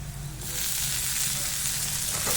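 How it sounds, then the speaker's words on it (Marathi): Chopped tomatoes sizzling as they are sautéed in a pan, the hiss swelling sharply after they hit the oil and then holding steady and loud with a faint low hum beneath. "टोमॅटोला छान असं परतून घेऊ"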